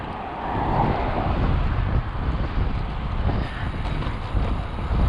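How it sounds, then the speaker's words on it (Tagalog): Strong wind buffets the microphone in a continuous low, roaring rush, steady throughout with no voices. "Lakas ang hangin"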